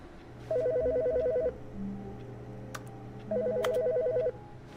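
A telephone rings in The Stanley Parable video game, sounding two electronic ringing bursts separated by a pause, clear and close with no talking.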